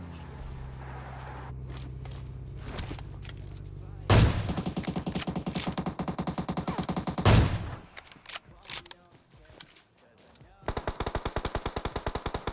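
Rapid automatic gunfire bursts from the PUBG Mobile video game, loud sustained volleys with short pauses between them, alongside a low engine-like rumble and scattered game effects.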